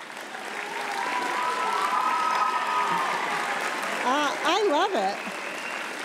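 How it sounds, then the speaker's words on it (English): A graduation audience at a charter school commencement applauds with sustained dense clapping, while a speaker's amplified voice talks over it and whistles or cheers rise near the end. "I am so happy to hear that applause"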